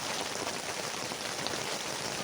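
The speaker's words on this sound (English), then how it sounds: "You can hear that rain." Steady heavy rain pelts a hot tent during a windy downpour, forming a dense, unbroken hiss at constant loudness, close by and alone without any talk.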